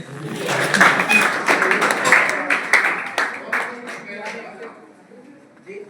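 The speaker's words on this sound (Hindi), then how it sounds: "ताली बजाओ भाई" An audience at a college lecture claps in a loose burst of separate hand claps that peaks early and then thins out, with voices talking underneath.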